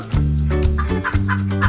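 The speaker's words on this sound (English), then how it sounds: "Chicken," Chicken clucking over a steady musical backing, a few short clucks rising above the tones through the clip, close and fairly loud, no talking.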